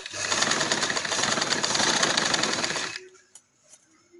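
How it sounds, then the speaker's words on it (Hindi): A sewing machine stitches cloth with a fast, steady rattling whir for about three seconds, close and loud, then stops, leaving a few soft handling clicks. "उल्टी साइड पे पेपट्टी लगा के मैं ऐसे सिलाई लगा रही हूँ"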